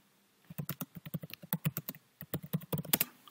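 Typing on a computer keyboard at close range, brisk clusters of light key clicks with a short pause midway, with no talk.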